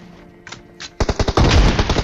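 Rapid bursts of automatic gunfire from an M4 rifle in the video game PUBG Mobile, loud and close, starting with a few quieter shots and then breaking into dense, continuous rattling fire.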